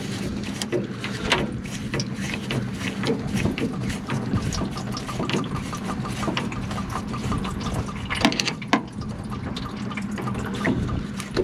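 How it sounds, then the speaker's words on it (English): Antifreeze draining from an MG Midget's cooling system, a steady trickling and splashing of liquid into a container, fairly close, with faint clinks over a continuous low background hum. "The next job to do is now to drain the antifreeze."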